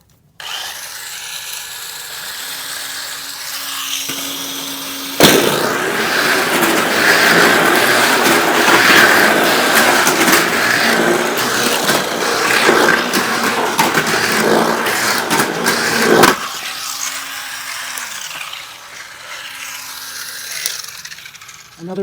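Festa Jaune Orange slot cars race around a small track with a corkscrew. A loud, steady whirring rumble swells for about ten seconds and then drops to a quieter hum.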